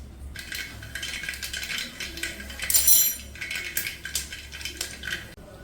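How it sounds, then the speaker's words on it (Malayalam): Mustard seeds go into hot coconut oil in a pan and crackle and pop steadily in dense, close bursts, with a brief louder metallic clatter midway. "ഒരു 1/2 ടീസ്പൂൺ കടുക് ഇട്ട് കൊടുക്കാം."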